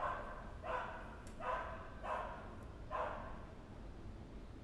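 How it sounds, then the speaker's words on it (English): A dog barking indoors: four evenly spaced barks, moderately close and clear over a low background hum, with no talk over them. "As if the dog starts barking now."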